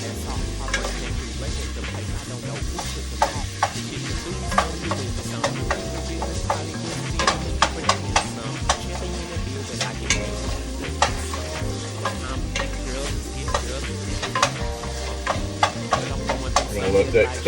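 Aromatic seasonings and spices fry in hot oil for a baked spaghetti, giving a steady, close sizzle with frequent sharp pops and crackles and occasional stirring scrapes throughout.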